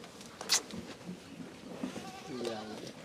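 A large goat gives a short bleat close by, then fainter bleating cries follow amid handling noises.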